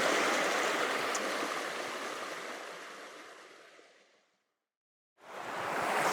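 Water falls close by at a waterfall in a dense, steady rushing roar that slowly fades to silence, then surges back in.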